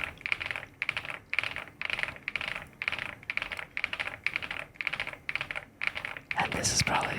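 Keystrokes on a heavy Epomaker Galaxy100 keyboard come in repeated short bursts of close clicks separated by brief gaps, with a louder rustle near the end.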